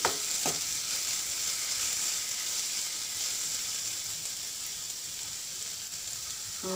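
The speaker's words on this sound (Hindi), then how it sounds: "पोहा आज कर लिया है और फिर अच्छे से इसको मिक्स कर रहे" Poha with onion and potato sizzles steadily in a hot pan while being stirred and mixed. The frying hiss is close and continuous, with faint scraping strokes and no talking.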